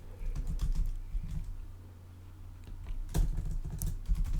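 Computer keyboard typing while copying text with Control C, quick bursts of key clicks and clacks up close, with a short quiet gap between two flurries.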